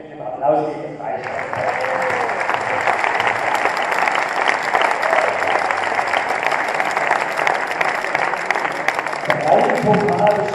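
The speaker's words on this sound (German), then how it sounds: "Aber mit dem Applaus geht es weiter." Sustained audience applause fills a hall at a robotics competition awards ceremony in Ludwigshafen, steady and loud for about ten seconds, with a brief voice at the very start.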